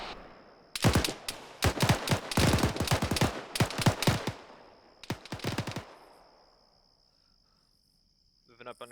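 Bursts of automatic gunfire from an enemy position in a video game, loud and close, rattle in several rapid strings over a few seconds, then fade into quiet with a faint high hum.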